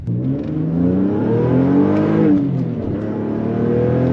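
A remapped GT 3.2 V6 with a free-flowing exhaust accelerates hard, its engine note climbing steadily in pitch and holding loud and close for about four seconds with no talk over it.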